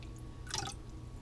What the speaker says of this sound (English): you got a little drip right on the end